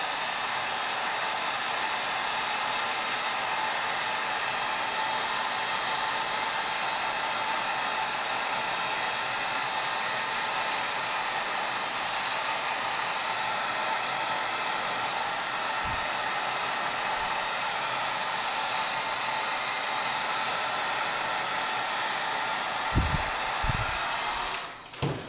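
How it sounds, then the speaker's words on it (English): A heat gun blows steadily on wire during a 12 volt relay setup, a constant close airy roar that holds for most of the stretch and cuts off near the end with a couple of handling knocks. "Get our heat gun."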